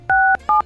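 Two telephone keypad tones sound while a code is dialed on a phone's call pad, a longer beep followed by a shorter one, clear and close.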